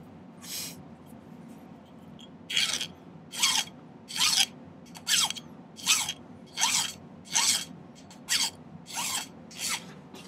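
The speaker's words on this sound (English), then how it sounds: "So I'm going to spend some time filing for a while." A metal file rasps across an opalized wood pendant on a silversmithing bench, about nine distinct rhythmic strokes after a quiet pause, close and fairly loud with no talk.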